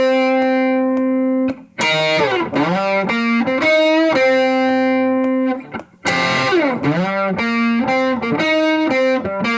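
A distorted electric guitar lick alternates held notes with fast bending runs, repeating the phrase twice, loud and close with no talking.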